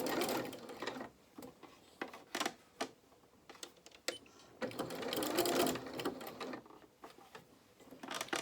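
A sewing machine stitches fabric for a doll's dungarees under the presser foot in a series of short start-and-stop bursts with brief pauses between them, close and clear.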